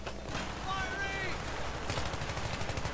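Bursts of automatic gunfire in the video game Battlefield 3, rapid repeated shots with a voice speaking over them.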